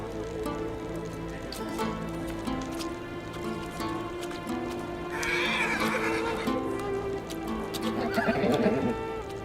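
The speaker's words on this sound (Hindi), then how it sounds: "ये घोड़ी किसकी है?" A mare neighs loudly in a long, wavering whinny, with hooves clip-clopping and shuffling close by. A second, shorter whinny follows near the end, and no one speaks.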